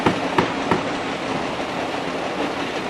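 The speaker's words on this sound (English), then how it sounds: "There goes the train." A train rumbles past near a temporary shack on Grizzle Island, with a steady broadband roar and a few sharp clacks of the wheels early on, loud and continuous with no talk.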